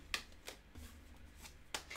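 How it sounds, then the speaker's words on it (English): Tarot cards being shuffled in a few quick riffling bursts spaced across two seconds, close and fairly crisp over a quiet low background hum. "in the midst of just trying to shuffle 2 cards flipped over"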